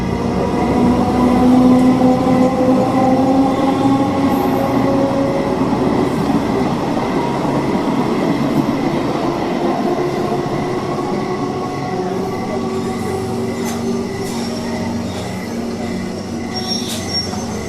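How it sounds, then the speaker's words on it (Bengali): A train rolls in and brakes at a station, steady rumble of wagons with long, high wheel squeals rising over the noise, loud and close throughout, no voices. "ট্রেন একটি স্টেশনে এসে থামলো।"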